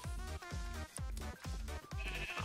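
Sheep bleat repeatedly in Minecraft, five quick wavering calls in a row, close and clear with no talk over them.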